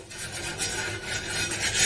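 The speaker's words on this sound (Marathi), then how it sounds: "कांद्याने असं तेल लावलं की धपाटा लवकर सुटतं, करपत नाही खाली, चिटकत नाही खाली" A cut onion rubs oil across a hot iron griddle, a soft steady scraping and rasping that continues in short strokes throughout, fairly quiet and alone.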